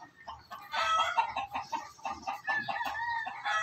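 Chickens clucking and crowing loudly close by on a farm just before slaughter, a busy run of squawks and calls, with no talk.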